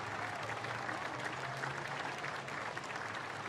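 Crowd applause along the Anzac Day parade route in Brisbane, distant and fairly faint, a continuous even patter of many hands clapping outdoors.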